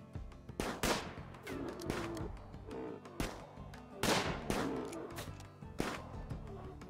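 Pump shotguns fire at rhinos in the RimWorld video game, with several sharp, loud blasts arriving in irregular bursts over a busy background of other combat sounds.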